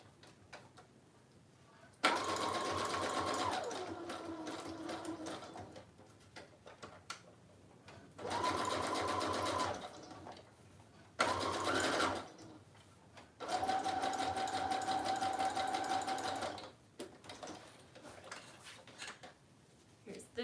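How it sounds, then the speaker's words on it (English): Fabric embellishments being stitched on a sewing machine, which runs in several loud bursts of rapid mechanical whirring, each a few seconds long, separated by quieter pauses with small handling clicks. "And last one to sew."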